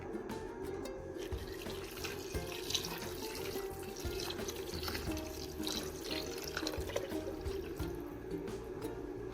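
Second coconut milk pours in a thin, steady trickle into a mango curry, a soft continuous liquid stream heard alone and fairly faint.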